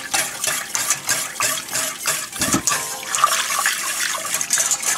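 Mushroom and beef stock is whisked into a roux for a sauce, giving a continuous sloshing, liquid swirling with rhythmic whisk strokes, close and steady.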